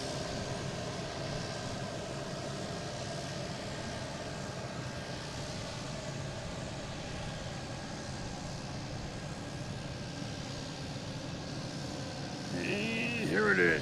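An Air France Airbus A350-900 airliner at Boston Logan International Airport produces a steady, broad engine roar that holds evenly across the whole stretch, with a voice speaking faintly near the end.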